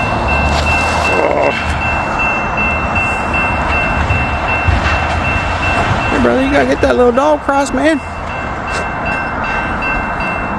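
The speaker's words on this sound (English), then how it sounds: "Train's coming." A train rumbles past after a snowfall, and its horn sounds in a few drawn-out blasts midway through. Someone talks over the steady roar of the rail cars.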